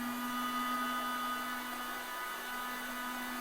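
A Panasonic blender runs on speed 2 while pulsing pineapple with water, giving off a steady motor whine with a strong constant hum that stays even and fairly faint throughout, with no talk over it.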